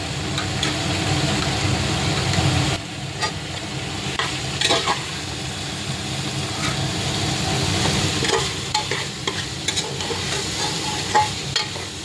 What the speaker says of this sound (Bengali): আলুর সাথে চিকেনের সাথে মশলা দিয়ে একসাথে কষিয়ে নিচ্ছি।